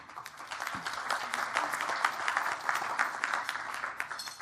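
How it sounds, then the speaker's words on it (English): A crowd claps steadily in a sustained round of applause at an awards ceremony, dense and even, heard from within the room. "a round of applause to all of you who did that"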